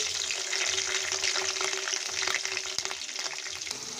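Chopped green chillies frying in hot oil for a fish curry, giving a continuous crackling sizzle with a few sharp pops and a faint stir, heard close and alone.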